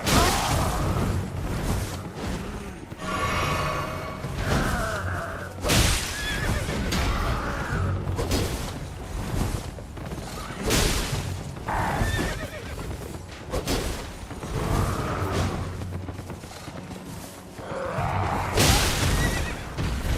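A horse in the video game Elden Ring neighs and whinnies loudly several times over clip-clopping hooves and occasional whooshing thuds, with no talking.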